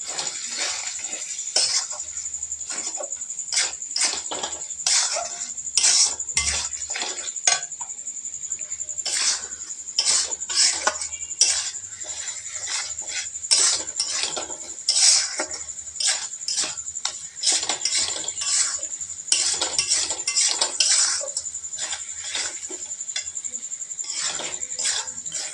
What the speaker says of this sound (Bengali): জিরে গুঁড়ো, দিয়ে এবার নাড়াতে থাকবো